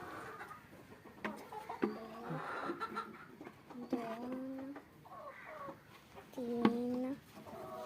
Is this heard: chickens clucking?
yes